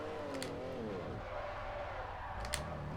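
Simulated car engine in Forza Motorsport 4 drives with manual clutch, revving continuously then dropping pitch as the throttle is released and it shifts into the next gear; steady, close and loud, with no talk.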